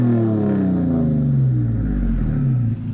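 A Nissan Xterra breathes through a new 4-inch stainless exhaust tip fed by 3-inch piping, giving one loud, close rev that sinks slowly into a deep rumble over a few seconds, with no voices.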